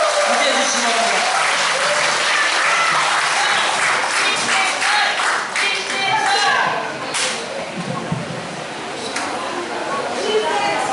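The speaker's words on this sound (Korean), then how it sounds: "뜨거운 박수와 여러분 함께해 주시기 바랍니다." A hall audience at a Korean political party meeting gives steady, dense applause for an arriving lawmaker, the clapping filling the room at close range and easing slightly toward the end.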